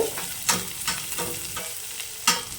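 Lentils are sautéed in a hot pan, with a continuous sizzle broken by several sharp spatula scrapes and stirs at an irregular pace.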